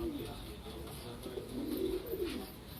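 A Mumbai-breed pigeon coos in low, rolling murmurs, close and moderately loud, over steady background hiss.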